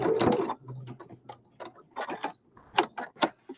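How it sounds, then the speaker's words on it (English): A domestic sewing machine stitches a short run along the edge of a homemade fabric weight, making quick mechanical whirring bursts separated by brief pauses, close and clear. "all I'm going to do with my sewing machine is I'm just now going to fill in that little gap."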